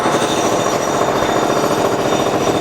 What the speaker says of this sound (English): I will be showing you a little clip of what the drilling sounded like.